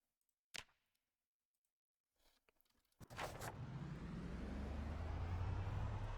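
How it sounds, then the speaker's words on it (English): A few sharp clicks, then a car engine starts up and settles into a steady, loud droning hum that grows slightly in pitch. "Is the car still loud?"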